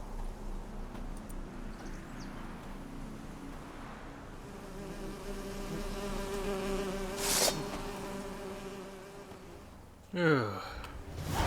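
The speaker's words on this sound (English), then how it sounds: "the bees buzzing" Bees buzz in a Witcher 3 game scene: a steady insect drone with a wavering tone under soft ambience, broken by a brief sharp hiss midway and a louder rustling burst near the end.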